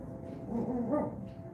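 A single low, muffled dog bark that trails into a brief whine, close by, with no voices.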